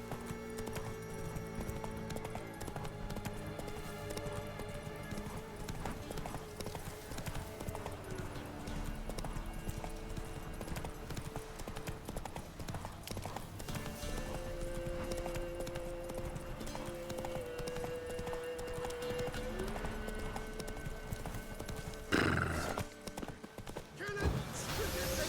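Roach, a horse in The Witcher 3, gallops with a steady, rapid clip-clop of hooves over a continuous game soundtrack and ambience, with a brief burst of louder action near the end.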